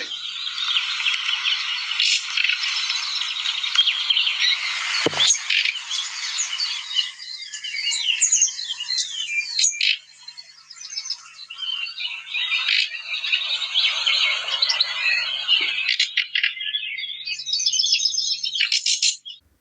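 Dense, buzzy nightingale calls with rapid pipping notes and rough croaking phrases, continuous and fairly close, with insect-like chatter throughout.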